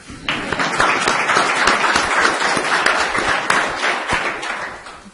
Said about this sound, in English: give me some claps